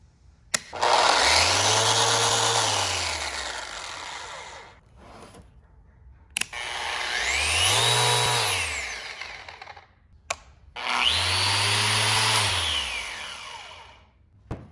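A random orbital sander runs at full speed in random orbital mode in three long bursts, each winding up and spinning down, with short quiet gaps between them.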